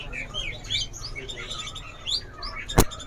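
Male Cucak Cungkok songbirds in a bird shop give repeated bright chirps and short whistled calls throughout, with a faint background hum and one sharp click near the end.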